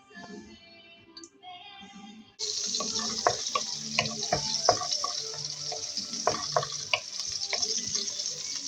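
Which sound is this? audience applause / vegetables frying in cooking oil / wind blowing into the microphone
vegetables frying in cooking oil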